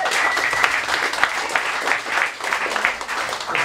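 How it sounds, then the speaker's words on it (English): Applause from an audience at a partner evening presentation, a dense, steady wash of many people clapping throughout, fairly loud and sustained. "Big round of applause for Angela."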